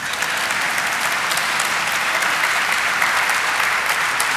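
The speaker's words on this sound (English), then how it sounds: "Clap, guys. Come on." Loud, dense clapping from an audience at an IPO stock listing ceremony, continuous and even for several seconds with no talk over it.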